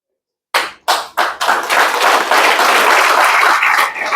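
A seminar audience breaks into clapping: a few separate loud claps land first, then merge into a full, sustained round of close applause that fades slightly near the end.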